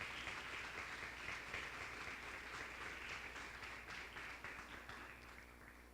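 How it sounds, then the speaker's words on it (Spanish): A church congregation claps together during a Sunday service, giving a dense, sustained round of applause at moderate distance that slowly tapers off toward the end. "Dale un aplauso a ese Dios grande"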